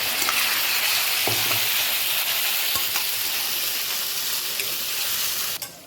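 Garlic paste masala is roasted in a pan for bhunai, giving a loud, continuous hissing sizzle with a few faint stirring clicks.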